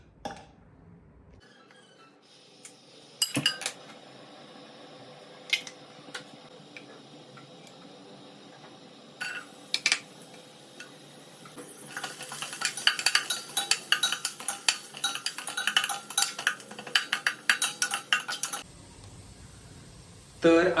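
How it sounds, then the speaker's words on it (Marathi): Onions sautéing in a pan for veg biryani, steady soft sizzle with clinks and scrapes of a spatula against the pan that grow busier and louder toward the end. "तर आता कांदा परततोय मी."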